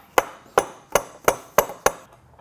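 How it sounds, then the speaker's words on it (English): Six sharp metallic hammer blows knock a rudder stand assembly part into place, struck at a steady, evenly spaced rhythm, close and distinct with brief ringing after each hit. "probably needing a hammer. And then knocking it over into place."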